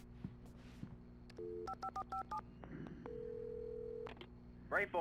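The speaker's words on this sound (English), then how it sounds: "Oh, phone." An in-game telephone in Alan Wake gives out a run of electronic tones: paired dial-type beeps, a rapid burst of short tone pulses, then one sustained steady tone. All of it sounds fairly close, with no talking over it.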